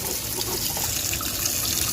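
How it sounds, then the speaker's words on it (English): Cold tap water runs steadily over beans being rinsed in a pot or bowl, giving a continuous close splashing rush with no pauses. "So run cold water through it just to get it rinsed."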